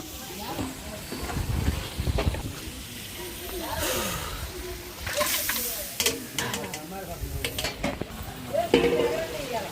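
Beef curry pieces being stirred through frying masala and oil in a large pot for a big batch meal, with continuous sizzling and scraping stirs under steady talk and background voices.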